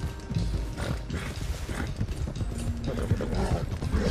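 Rhythmic horse hoofbeats in Red Dead Redemption 2 clop along under a busy game soundscape, moderately loud and steady for a few seconds.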